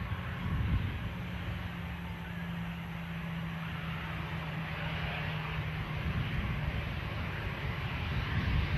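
An Iberia jet taxiing at Manchester Airport produces a steady, moderately distant engine rumble with a low droning hum, continuous without talk.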